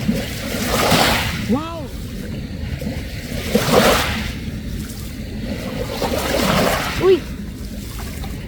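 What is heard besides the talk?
ocean waves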